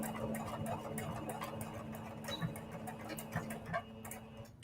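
Sewing machine stitching a quilted fabric heart, a rapid even ticking of the needle running steadily at close range, with a faint hum beneath.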